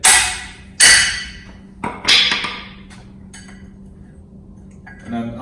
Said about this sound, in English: We just got a big spanner, big hammer, and then we undo it.